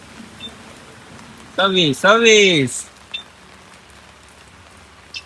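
Monsoon rain hisses as a steady wash of noise through the clip. Someone talks briefly over it, close by.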